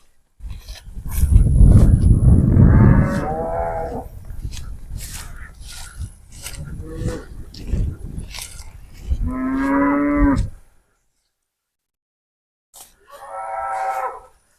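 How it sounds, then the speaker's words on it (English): Cattle mooing loudly and repeatedly as a herd is moved through a lowered electric wire fence into a new pasture, long drawn-out moos close by with brief gaps of silence between calls. "And we'll watch these cows come on through."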